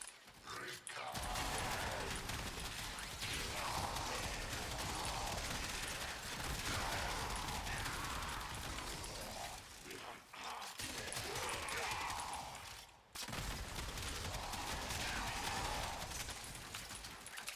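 Sustained rapid gunfire from the Cedo in the shooter game Warframe, a dense continuous stream of shots with brief breaks near the start and around ten and thirteen seconds, loud and up close.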